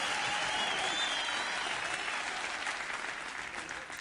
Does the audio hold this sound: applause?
yes